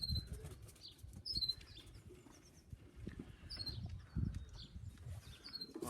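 A flock of young and adult birds takes off, a faint flurry of flapping wings with scattered distant chirps over a quiet outdoor background.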